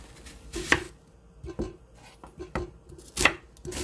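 A small onion is cut into chunky pieces on a cutting board, with a few separate, sharp knife thunks spaced irregularly, close and clear.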